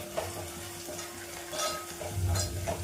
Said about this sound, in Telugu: అల్లం వెల్లుల్లి పేస్ట్ వేగింది. అందులోనే ఒక 1/2 టీ స్పూన్ పసుపు వేసుకుంటున్నాను. ఒకసారి అలా కలుపుకొని